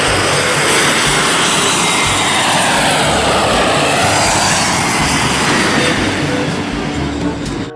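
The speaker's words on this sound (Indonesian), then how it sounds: "Kita menerbangkan pesawat terbang" Toy airplane flying, giving a loud, continuous broadband whirring roar with a steady engine-like hum underneath, sustained throughout with no speech.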